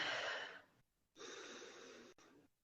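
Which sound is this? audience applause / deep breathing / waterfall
deep breathing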